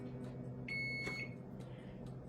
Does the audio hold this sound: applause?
no